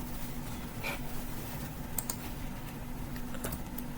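Keys clatter on a computer keyboard as text is typed into a Photoshop party flyer, giving a few quick, light taps over steady background hum. The typing is close and fairly soft, with no one speaking.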